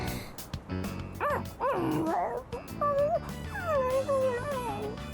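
Dog whimpering, yipping and drawn-out howling in the Persona 3 Reload video game, a run of pitched whines and short yelps that rise and fall, close and fairly loud, with no talking.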